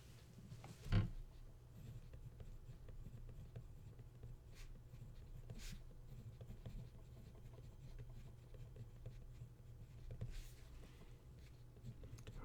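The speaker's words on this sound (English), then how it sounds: "I better write that down." A pen scratches faintly and steadily across paper in a quiet math lecture room during a lesson on set operations, with a single soft knock near the start and no talking.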